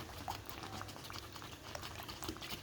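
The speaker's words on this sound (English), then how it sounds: "This is more than 15 minutes of boiling." A pot of Jamaican cornmeal porridge bubbling on the boil after more than 15 minutes, thick liquid popping and gurgling steadily at close range, with no talking.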